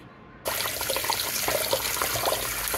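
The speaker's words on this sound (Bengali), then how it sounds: "এখন আমি চালগুলোকে ভালোভাবে ধুয়ে নিচ্ছি" Rice is being washed under running water from a tap in a kitchen sink. A steady close splashing rush starts abruptly and continues without pause.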